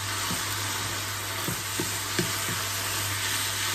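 Peanut and sugar filling stir-fried in a pan with a constant bright sizzle and a few soft scrapes of the spatula at irregular moments, near and steady.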